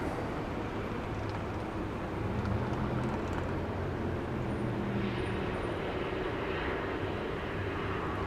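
An airplane landing long on the runway at Dallas Love Field, heard as a steady broad jet roar at a distance, fairly faint and constant with no voices.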